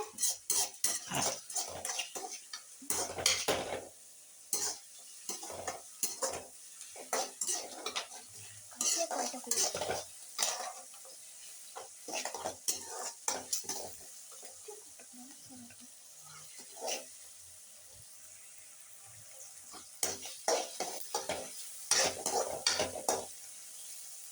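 Curry leaves sizzle in a pan while a spoon stirs and scrapes against the metal, making a steady run of clinks and scraping strokes at close range, with no talking.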